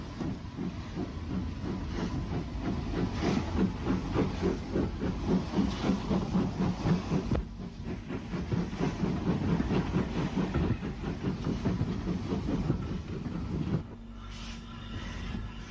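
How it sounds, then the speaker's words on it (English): Train departing Ryde Esplanade on the Isle of Wight railway, loud continuous rumble with rhythmic clacking and hiss, easing briefly before continuing, then fading toward the end. "We returned to Ryde Esplanade in time to see a train departing for Pier Head."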